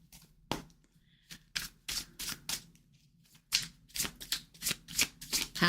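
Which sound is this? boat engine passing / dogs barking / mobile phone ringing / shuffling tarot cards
shuffling tarot cards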